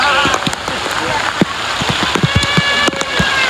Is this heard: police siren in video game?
no